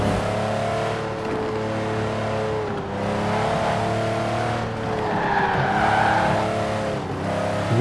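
A Mercedes G63 AMG G-Wagon drives along with a steady, close engine drone whose pitch rises and dips as it accelerates, with a faint whine and rushing road noise beneath.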